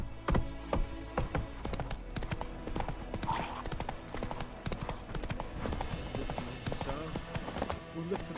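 Roach, a horse in The Witcher 3, gallops with quick rhythmic hoofbeats in clip-clop patterns, moderately loud throughout alongside game ambience, with a brief whinny-like sound.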